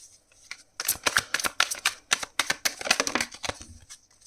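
A tarot deck is shuffled by hand in close, quick riffling bursts that patter unevenly for a few seconds before trailing off, with no voice over them.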